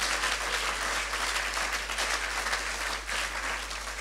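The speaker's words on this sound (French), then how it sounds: "Oui, n'hésitons pas à l'acclamer" An audience at a worship gathering applauds, a dense and even wash of many hands clapping at once that holds steady and close for the full four seconds.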